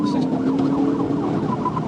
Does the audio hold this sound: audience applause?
no